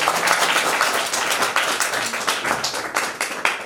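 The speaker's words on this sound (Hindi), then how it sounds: "इसके लिए बहुत बहुत तालियां हो जाए।" Audience applause at a local beauty pageant interview event, dense steady clapping from a crowd lasting the whole stretch, fairly loud and close with a few sharper claps near the end.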